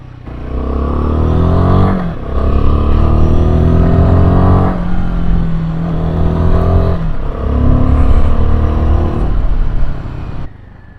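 A Royal Enfield Himalayan 450 adventure motorcycle's engine drones steadily and loudly while riding, its tone rising through the revs in several pulls with brief dips between gear changes, no voices over it.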